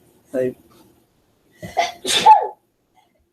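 One sharp sneeze bursts out close to the microphone indoors, with a brief spoken word just before it in an otherwise quiet room.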